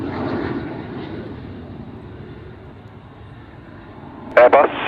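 A steady engine drone from an Airbus A400 military transport aircraft sits under a voice on an airband radio, with a brief burst of radio chatter near the end.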